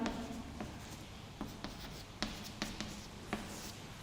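Matrix entries written on a classroom board, with a series of short taps and scratchy strokes at an irregular pace, close and fairly quiet over a constant background hum.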